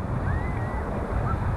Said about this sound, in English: Waves are starting to pick up.